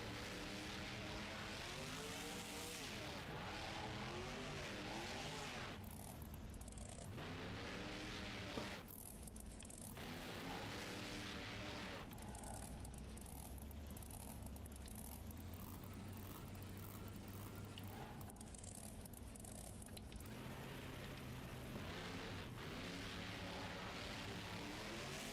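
A car engine in BeamNG runs continuously, a droning, fluctuating whine that rises and dips for about twenty-five seconds as it is driven until it dies, quiet and unbroken without talk.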